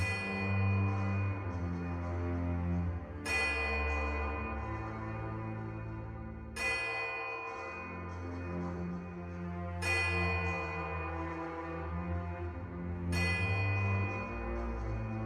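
Deep church-like bells in the video game Pillars of Eternity II toll together in slow, heavy strikes every few seconds, each ringing out long and full with layered overtones.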